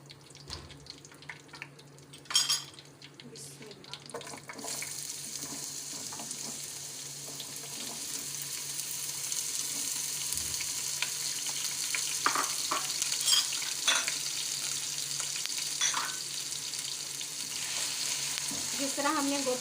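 Potatoes frying in a pan for a Pakistani-style aloo gobi, a steady close sizzle running the full length with occasional stirring clatter and brief tap-like bursts near the start.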